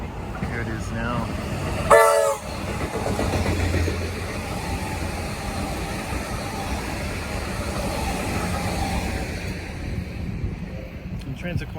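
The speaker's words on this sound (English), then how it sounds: "That's an express train into the city." A city-bound express train passes on the line at Spotswood, Melbourne: a short sharp horn blast, then a loud sustained rumble and rush of wheels on rails that carries on close by before easing off.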